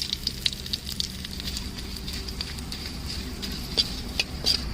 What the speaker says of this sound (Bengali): তেলটা গরম হয়ে গেছে, এখানে দিয়ে দিচ্ছি গোটা শুকনো লঙ্কা, তেজপাতা ফোড়নে